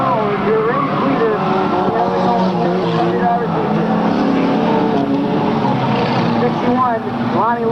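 Race cars roar down the backstretch of an oval track in a loud, continuous engine drone with rising and falling whining pitch sweeps, while an announcer talks over the noise.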